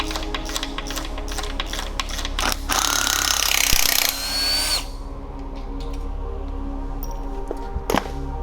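Power tool whirring in short bursts as bolts are backed out of a Nissan SR20/KA24 transmission bell housing in a garage, with a louder sustained run in the middle and clanks of metal between.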